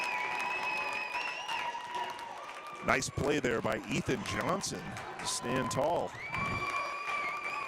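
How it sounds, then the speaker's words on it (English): Hockey fans in the stands at a boys varsity game cheer and clap in a short, energetic burst, interleaved with a commentator talking over the arena noise. "You can hear the cheering of the fans in the stands here for that defensive play."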